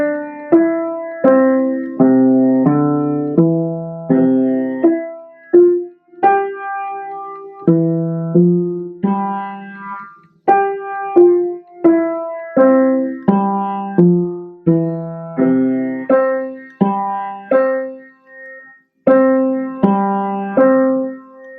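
A piano plays the melody of Brother John with both hands in a simple, steady beginner's pace, clear single notes with a lower accompanying line, continuing for many bars with brief pauses and no talking.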